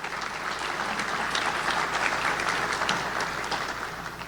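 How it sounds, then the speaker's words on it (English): A room of guests at a Chamber of Commerce monthly luncheon claps together, a sustained, moderately loud burst of many hands with sharp individual claps audible throughout and no talking. "Let's give them all a big round of applause."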